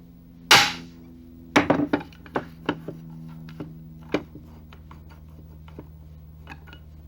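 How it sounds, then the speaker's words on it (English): Pop rivets being set on a Rotorway helicopter kit during assembly: a sharp loud snap followed by a series of quieter metallic clicks and taps, near and without speech. "then install the second pop rivet"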